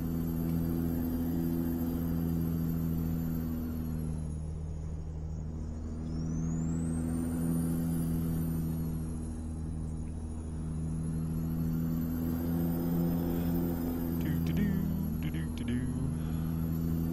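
Truck driving in the video game Euro Truck Simulator 2, a steady low engine drone with a constant hum, while someone talks over it.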